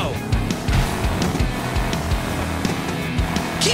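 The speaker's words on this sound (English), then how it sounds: "Pull the launcher all the way back to get your car going." A Hot Wheels toy car launches and races in a video game, with a busy whirring engine and rolling tire noise, sharp clicks and whooshes, and lively game sounds all loud and up close.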